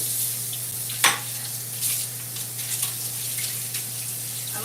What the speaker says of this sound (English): I should start doing dishes.